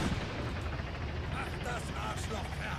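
Incendiary grenades and gunfire crackle and rumble in the video game Graviteam Tactics Mius-Front, a dense, continuous battle din of bursts and pops, fairly quiet, with a voice speaking over it.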